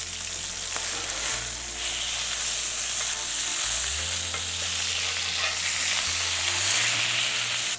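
A wagyu onion burger patty sizzles loudly on a grill grate, a dense continuous frying hiss with a low hum beneath, close and unbroken throughout.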